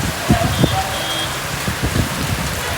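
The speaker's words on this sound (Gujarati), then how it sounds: "બહુ જ વરસાદ આવે છે." Heavy rain pours down during a downpour in Botad, a dense, steady hiss that fills the whole stretch, broken by a few sharp knocks and faint bursts of sound.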